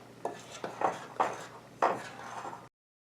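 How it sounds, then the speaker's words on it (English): Flour is mixed into sugar cookie dough in a bowl, heard as a series of soft thuds and scrapes from the spoon, close and fairly quiet, with no talking. "And then mix this in until all of your flour is incorporated into the wet batter, and you have a nice cookie dough."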